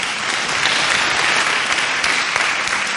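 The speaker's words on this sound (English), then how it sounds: "Can we give ourselves a warm round of applause for coming?" Attendees at the 62nd Telecom Consumer Parliament give a warm round of applause, a loud, dense, sustained clapping from a large crowd with no speech over it.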